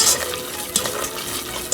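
A whisk stirs flour into a roux in a pan for mac and cheese, with a soft, continuous scraping swish and a few faint clinks against the pan, close and fairly quiet.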